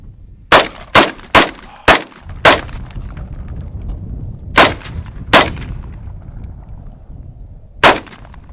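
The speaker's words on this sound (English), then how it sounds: "Can you see the bottles down there that I'm gonna shoot?" A Ruger Mini 30 rifle fires at bottles outdoors: eight sharp, loud reports, five in quick succession and then three spaced out, each trailing a short echo.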